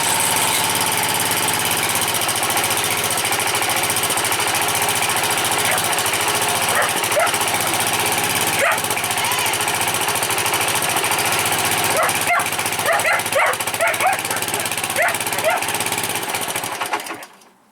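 A Honda HRH 536 lawn mower engine runs loud and close with a rough, steady chugging drone, a few clicks and rattles over it, then cuts out abruptly at the end.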